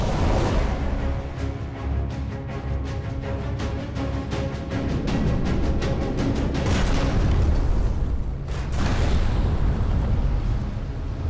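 A wartime submarine torpedo launch and explosion against a target ship, a sustained deep rumbling roar with heavy booming bursts and crackling debris, loud and dense, with no speech.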